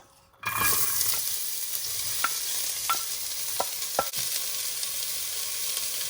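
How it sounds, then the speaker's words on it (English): Onions hit about two tablespoons of hot olive oil in a pan for beef empanada filling, breaking into a loud, continuous close sizzle with a few sharp pops and clicks. "once it is hot, I am going to add my onions"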